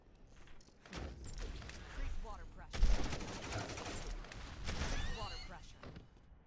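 Video game gunfire crackles in rapid bursts and volleys, fairly close, under a speaking voice, with a heavier thump partway through.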